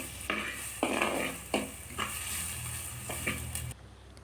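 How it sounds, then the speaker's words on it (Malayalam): Sliced onions are stirred in a pan with curry leaves and chilies for a prawn curry, with several scraping strokes over a steady sizzle, close by and unaccompanied by speech, ending abruptly. "അങ്ങനെ മൊത്തം സവാളയും ചേർത്ത് നമ്മൾ നന്നായിട്ടൊന്ന് ഇളക്കി കൊടുക്കും."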